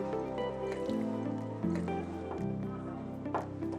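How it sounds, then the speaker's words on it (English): A splash of lime juice is poured into a cocktail mix with house-made grenadine at a bar. The liquid gives a soft, brief trickle and drip, partly masked by steady background music. "adding a splash of lime juice for acidity"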